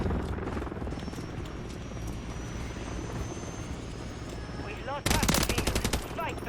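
Call of Duty: Modern Warfare 3 team deathmatch battle with constant gunfire and a helicopter droning underneath, then a loud burst of rapid automatic fire near the end.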